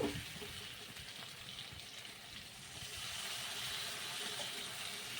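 Water poured into a simmering fish curry of hilsa and green banana in a pan, a soft steady pouring gush over a faint sizzle, quiet and close, no voices.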